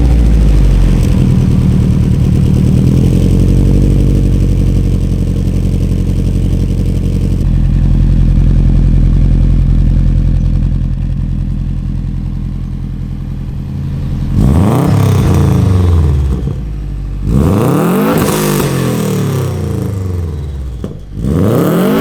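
A Subaru WRX Impreza with a stage 3 tune of over 350 hp idles with a deep, loud rumble, then snaps through several sharp revs, each rising and falling back toward idle.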